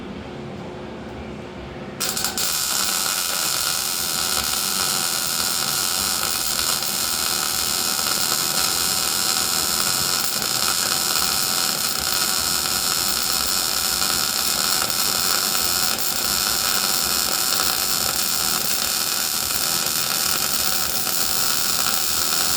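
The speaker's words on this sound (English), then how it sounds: "That's about 3 inches of weld there." Welding on a sheet metal panel during a street rod build, with the panel shrunk as it is welded: a loud, steady, crackling hiss-buzz runs unbroken for about twenty seconds after a short quieter start, with no talking.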